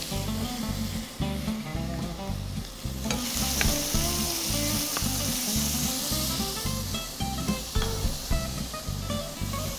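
Onion fries in oil in a pan with a steady loud sizzle, stirred with repeated rhythmic scraping strokes throughout.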